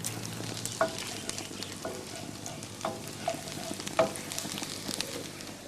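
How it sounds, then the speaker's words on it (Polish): Garlic sizzles in butter in a frying pan, a steady soft crackle close by, broken by a few sharper clicks and taps from stirring, with no talk. "masło jest właśnie w sam raz, żeby do niego dorzucić czosnek. Niech to się chwilę, dosłownie chwilkę razem poddusi"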